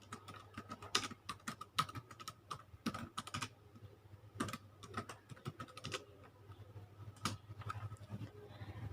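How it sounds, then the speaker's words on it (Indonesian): Rapid, irregular clicking of keys on a computer keyboard, typed in bursts with short pauses over a steady low hum, close and fairly quiet. "Kita ketik."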